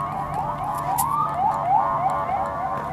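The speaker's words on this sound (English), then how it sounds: "Sounds like an ambulance" An ambulance siren wails in a repeating rising and falling pattern on a city street, fairly loud and steady over traffic noise, with no voices.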